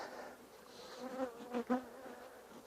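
Steady insect buzzing from honeybees at an opened hive fills the clip, with a couple of louder, closer passes swelling up briefly before settling back into the drone.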